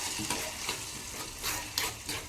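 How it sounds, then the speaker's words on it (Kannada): Ground red chutney is poured into a hot tempering and sizzles loudly and continuously up close, with soft scraping stir strokes pulsing through the hiss. "ಈಗ ಇದರಲ್ಲಿ ನಾನೀಗ ರುಬ್ಬಿರ್ತಕ್ಕಂಥ ಚಟ್ನಿನ ಹಾಕ್ತಾ ಇದ್ದೀನಿ"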